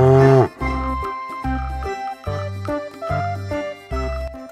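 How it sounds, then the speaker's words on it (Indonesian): A green toy cow plays electronic jingly tones, with a short buzzy moo-like burst at the start followed by a bouncy repeating melody of bright notes, loud and close with no speech. "Berwarna hijau, namanya sapi."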